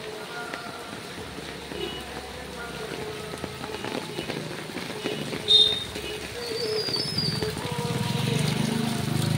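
Heavy monsoon rain in a village, falling as a steady wash of patter, with birds cooing nearby and a rising rumble toward the end.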